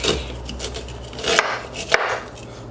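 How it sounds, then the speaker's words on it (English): A knife cuts kernels from a fresh ear of peaches and cream corn, making a series of close, crisp cutting strokes with two sharper knocks near the end, and no voices. "And just slice the kernels off the cob."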